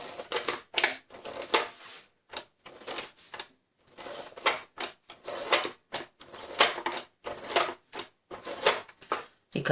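A snail-style tape runner lays strips of adhesive tape onto a card. It makes repeated short rasping clicks and zips in quick bursts with brief pauses between them, close and moderately quiet, with no talking.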